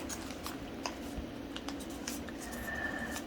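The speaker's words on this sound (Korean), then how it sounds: "반대쪽도 똑같이 안쪽으로 접어주세요." Paper is creased and pressed with the fingers while folding a rabbit origami, making soft, continuous rustling and light scraping close up at a low, even level.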